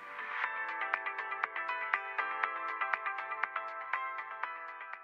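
Outro music for a Final Cut Pro end-screen template, processed through a phone-filter notch EQ so it sounds thin and narrow, with bright plucked notes repeating in a steady rhythm throughout, no voices.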